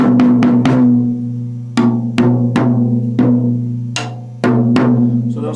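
A tuned drum is struck about eleven times, each hit ringing with a clear sustained pitch, loud and close, in an irregular rhythm with short gaps between strokes.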